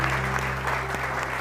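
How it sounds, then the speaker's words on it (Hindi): Studio audience applause on a TV morning show, a steady wash of clapping over a constant low background hum, moderately loud and continuous throughout. "उफेरा के लिए फिर भी तालियां बजाइए प्लीज"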